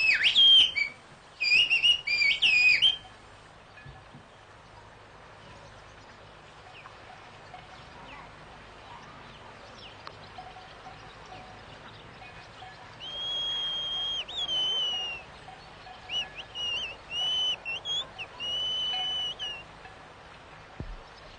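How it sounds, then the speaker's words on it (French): Shrill Pyrenean whistled-language phrases answer from a barn up on the hillside, thin and distant, in several short bursts and longer wavering runs over quiet outdoor ambience. "je vais appeler Harip qui travaille là-haut dans une grange"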